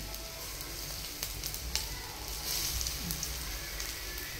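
Alu vadi frying in a little oil, a steady close sizzle with scattered crackles and pops, no voices.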